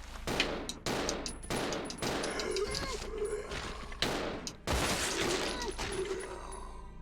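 Gunshots in Resident Evil Zero, several sharp separate blasts spaced about a second apart, loud and close, with echoing room tails and faint game sounds between them.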